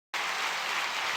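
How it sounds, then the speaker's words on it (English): A crowd bursts into sustained applause for the Atlanta Braves, starting abruptly and holding steady and dense, a wash of many hands clapping with no voices over it. "Clap it up for the Atlanta Braves."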